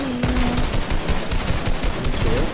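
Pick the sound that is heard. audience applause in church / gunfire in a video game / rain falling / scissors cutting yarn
gunfire in a video game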